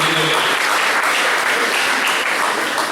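Audience at an air show celebration applauding loudly and steadily, a dense continuous wash of clapping from a large crowd close by.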